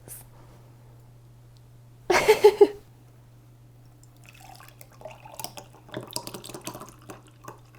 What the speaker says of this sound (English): now comes the very best, most satisfying part is the juice pour